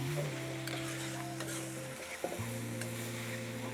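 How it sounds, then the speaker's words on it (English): Seafood stirred into char kway teow noodles frying in a hot wok, a steady close sizzle with clanking stirring strokes and a brief pause before the frying hiss resumes. "So stir them in right at the end because they will take no time at all to cook"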